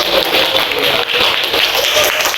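Schoolchildren in an elementary school classroom clap together in a dense, steady burst of applause that stays loud and even throughout, with no pauses.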